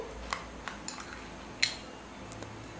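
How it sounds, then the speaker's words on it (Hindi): A metal spoon tapping against a bowl while chopped dry fruits go into gulkand, several light, sharp clinks spaced irregularly over quiet background, no talking. "ये जो ड्राई फ्रूट्स हमने कट करके रखे हैं, इन्हें हम गुलकंद में डाल देंगे।"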